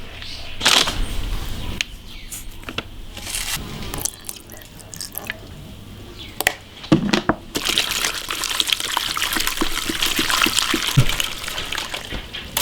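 Pork liver is rinsed in water by hand in a home kitchen, with close, irregular splashes and sloshing. Brief drips and knocks come between the splashes, and the sound grows into a fuller run of water toward the end.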